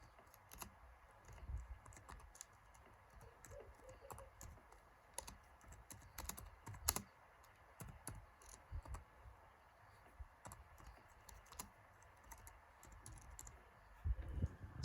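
Fingers type on a Mac computer keyboard in a quiet room, a steady scatter of light, close key clicks with a few louder taps and no talking.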